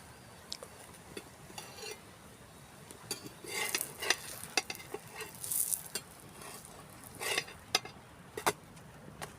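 Cassava roti cooking on a pan after being flipped, in a village kitchen: a soft, steady sizzle runs throughout, with scattered scrapes and light clinks of a utensil against the pan, no talking.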